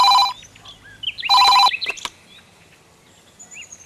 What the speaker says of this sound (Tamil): மாமா ஃபோன் பண்ணுறான், கொஞ்சம் ஃபோன் எடுத்து பேசுமா